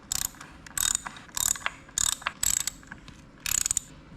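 Ratchet clicking in several quick bursts as bolts are tightened on a vintage motorcycle motor, close and crisp with short pauses between strokes.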